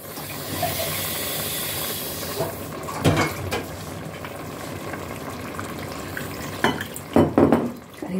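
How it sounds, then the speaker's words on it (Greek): Water poured into a cooking pot of chickpea and spinach fricassee sauce, a hissing, bubbling pour with a few sharp clatters and splashes near the start and toward the end, heard up close and alone. "Ρίχνουμε νεράκι."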